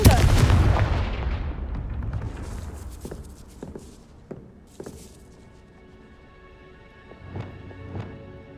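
In Hogwarts Legacy, a Confringo blasting spell detonates with a big booming explosion that decays over a couple of seconds, followed by scattered lighter impacts and footstep-like thuds in the game world.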